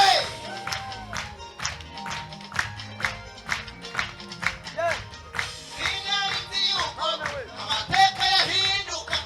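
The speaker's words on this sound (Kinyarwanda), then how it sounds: "Amashyi we" A congregation at an ADEPR church service breaks into lively, uneven hand clapping, with sharp claps scattered and bunching into bursts, moderately near, with voices murmuring underneath.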